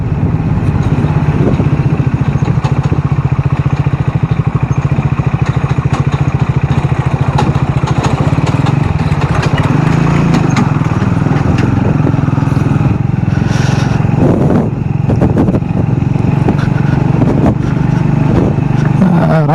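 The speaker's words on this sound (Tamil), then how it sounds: "டிராக்டர் வருது." A loud tractor engine rumbles steadily throughout, droning and chugging as it draws near on a single-lane hill road, with no speech over it.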